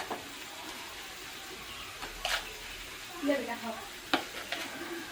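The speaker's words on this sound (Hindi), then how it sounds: "इसमें से हम 250 ग्राम लगभग अंदाज से खोया निकाल ले रहे हैं दूसरे बर्तन में।" Homemade khoya for carrot halwa is scooped from one pot into another in a traditional wood-fire kitchen. Soft, close scraping and stirring sounds come in a few brief bursts over a quiet background.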